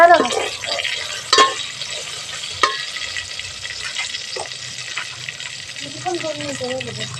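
Onions and tomatoes fry in a pan for biryani, a steady sizzle with occasional stirring scrapes and clanks, while a voice talks over the cooking near the end.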